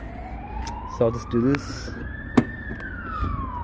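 An ambulance siren wails in a rising sweep, loud and passing nearby, heard from inside a Suzuki Jimny while someone talks over it.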